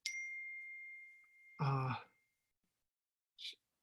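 A phone's text message notification rings out as a single bright ding that fades over about two seconds, followed by a short breathy sound and a faint later blip in an otherwise quiet room.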